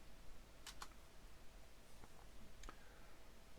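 A handful of quiet, separate keystrokes on a computer keyboard as the word servo is typed, a few crisp clicks spaced out over a faint room hush.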